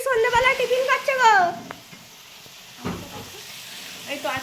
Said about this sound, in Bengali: আর এই যে এখানে আলু আর পেঁয়াজ ভাজা হচ্ছে।